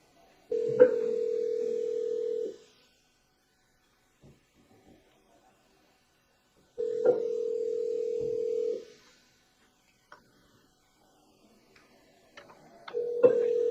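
A phone line rings out with long repeated ringback tones, three bursts separated by silence, the last cut short as the call rolls to voicemail; clear and fairly loud, no talking.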